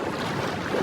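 Water sloshes inside a large water-filled tube as it is shaken, giving a continuous rushing, churning wash heard up close without pauses.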